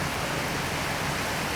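Heavy monsoon rain in Thailand pours in a steady, dense roar with no gaps, loud and close throughout, with no voices present.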